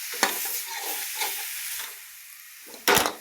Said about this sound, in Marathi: त्याला असं असं तेलात टाकायचं, चांगलं परतायचं बघा